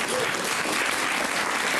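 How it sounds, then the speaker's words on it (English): Steady applause from a poetry marathon audience in Paterson, honoring the poet Laura Boss, a dense even wash of clapping that holds at one level without a break. "we should give Laura an extra round of applause for that"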